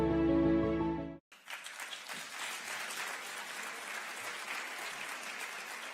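After a short musical tone cuts off, an audience breaks into sustained applause for young participants, a broad, even wash of many hands clapping that holds steady to the end.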